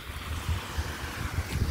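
Sea waves wash on the shore at a seaside beach, a soft, rolling surf mixed with wind rustling the microphone, faint and uneven with no talking.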